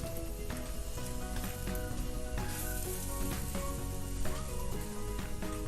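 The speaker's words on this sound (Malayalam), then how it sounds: "അത് വെച്ച് നമ്മൾ ബ്രെഡ് ഒന്ന് ടോസ്റ്റ് ചെയ്യുന്നതാണ്" A bread omelette sizzles steadily as it toasts in a pan, a continuous close crackle and hiss with occasional faint scrapes.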